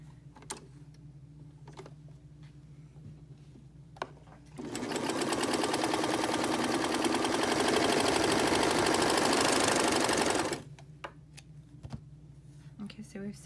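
A serger runs in one steady, loud, buzzing burst lasting several seconds as it finishes the edges of a fabric face mask, framed by quiet handling noises and light clicks before and after.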